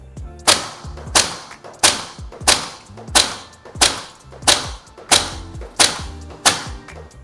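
A Maruyama ISO556 airsoft rifle fires 0.43 gram BBs in eight evenly spaced, loud, sharp shots, each a crisp crack with a brief mechanical thump, at roughly one shot per second.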